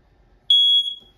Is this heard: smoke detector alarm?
yes